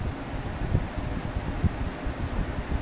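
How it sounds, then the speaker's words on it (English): An electric fan runs in a room, aimed directly at the person, giving a constant soft whooshing hum with faint irregular thumps from the air. "sorry if y'all can hear my fan."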